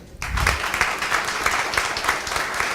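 Listeners in a municipal council session break into applause, a dense, continuous clapping that starts abruptly and holds steady at fairly loud level, with no voices over it.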